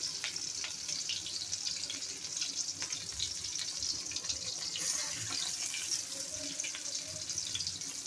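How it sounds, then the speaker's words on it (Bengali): A kitchen tap runs in a steady, close rush while hands are washed under it. The water stream stays constant throughout, with small splashing changes as the hands move. "আমি হাতটা ধুয়ে ফেলি"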